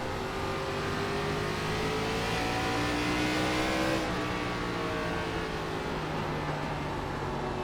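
ARCA Menards Series stock cars racing at Five Flags Speedway in iRacing, a loud, steady engine drone with rising and falling pitch as the cars accelerate and lift through the corners, with no talking.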